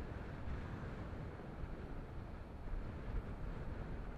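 Strong wind buffeting the helmet and microphone while riding a Kawasaki Z900 motorcycle, a dense continuous roar of broadband noise, steady and loud throughout with no voices.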